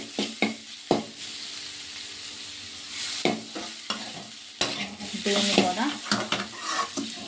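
Ridge gourd pieces frying in a pan, with a soft sizzle under sharp scraping stirs that come in irregular bursts, close up, and a brief spoken phrase partway through.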